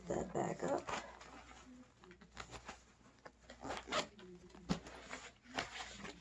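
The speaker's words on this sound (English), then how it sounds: "I'm just going to zip that back up." A zipper on a 12 lb get-home bag rasps in several short pulls close by, with soft handling rustles between the strokes.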